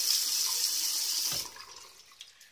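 Hot water running from a tap into a shaving bowl, a steady broadband rush filling the first second and a half before cutting off, leaving faint drips and small splashes.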